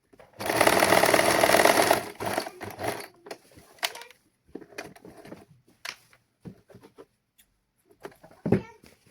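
Sewing machine stitching lining and saree fabric: a loud, steady whirring run of about a second and a half, then scattered clicks and fabric handling with short quiet gaps.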